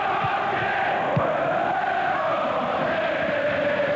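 Steady roar of a 43,000-strong football crowd at Villa Park for a Boxing Day match between Aston Villa and Manchester United, a dense continuous hum of voices with a couple of faint thumps.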